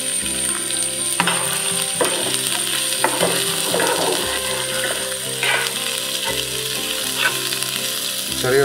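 Chopped small shallots sizzle steadily in hot oil with garlic for a Kerala chicken curry, a continuous loud frying crackle with occasional stirring clatter and no talk.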